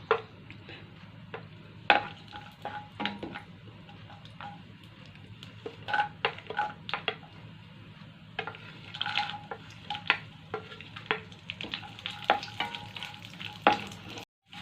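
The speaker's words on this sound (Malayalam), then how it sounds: "ഇതിലേക്ക് നമ്മൾ എടുത്ത് വെച്ചിരുന്ന ഡ്രൈ ഫ്രൂട്ട്സ് ഒന്ന് വറുത്ത് പോരാം" Dry fruits fry in hot ghee with a soft continuous sizzle, broken by frequent light taps and scrapes of a spoon stirring them around the pan, close and fairly quiet.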